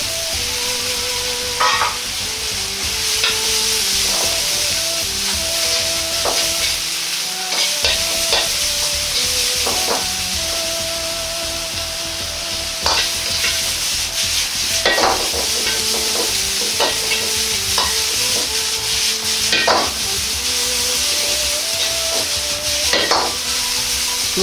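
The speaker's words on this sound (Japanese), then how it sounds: "野菜も入れて炒めていきます。" Vegetables being stir-fried in a wok with ginger, oil and chili bean paste for a Sanmamen rice-noodle dish, a steady close sizzle broken by repeated scraping and clattering strokes of a utensil against the pan, with no talking.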